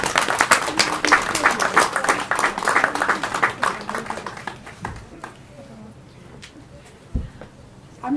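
Wedding guests break into applause, dense clapping filling the first five seconds under crowd murmur before it thins out to scattered claps and quiet room noise.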